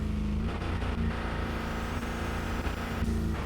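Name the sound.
car engine downshifting in racing video game RevHead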